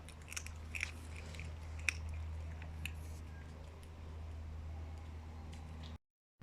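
A cat crunching food outdoors, with close, irregular crisp bites and chewing clicks over a steady low hum.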